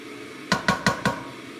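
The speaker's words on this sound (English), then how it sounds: "Stirring this up." A utensil stirs egg roll soup in a pot, giving four quick, evenly spaced metallic clinks against the pot, fairly close, over a quiet background.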